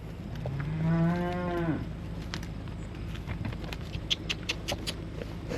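A cow on a farm pasture lets out one loud, close moo lasting about two seconds, followed by soft rustling and light patter from the herd.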